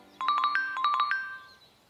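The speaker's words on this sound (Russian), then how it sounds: "Ой, мне Роберт звонит." A cartoon phone ringtone plays a bright chiming melody of quick repeated notes in two short bursts, loud and close, then fades out, with no talking.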